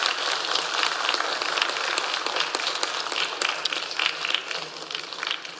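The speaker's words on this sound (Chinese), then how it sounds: "我们给他们一个热烈的掌声" Sustained applause in a parliamentary chamber welcoming visiting UK MPs, Lords and a Baroness, a steady, dense patter of many hands clapping at even loudness throughout.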